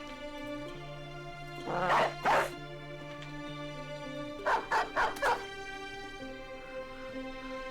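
Dog barking in the video game Battle Brothers: two short bursts of barks, a pause, then a quick run of four more barks over a steady game music bed.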